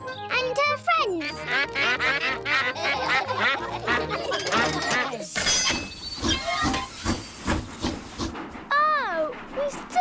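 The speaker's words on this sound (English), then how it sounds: "It's Mrs. Duck and her friends." Cartoon ducks quack in a children's animated train-ride episode, a lively run of bright, repeated quacks at close range mixed with steam hiss and train sounds, with children's chatter in between.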